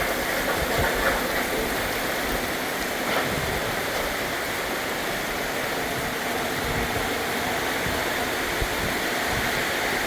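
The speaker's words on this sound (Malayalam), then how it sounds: "മഴയ്ക്ക് വീണ്ടും കുറച്ച് പ്രാപിച്ചിരിക്കുകയാണ്" Continuous roar of heavy rain with gusty wind in Palakkad, heard from a balcony, a broad steady wash of noise without speech.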